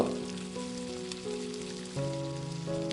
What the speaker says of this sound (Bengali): গ্যাসের ফ্লেমটাকে লোতে রেখে বড়াগুলোকে ভেজে নেব